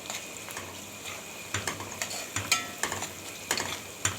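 Onion and chili being stirred in a frying pan, with a spatula scraping in repeated strokes at roughly half-second intervals over a quiet low sizzle, close and fairly soft.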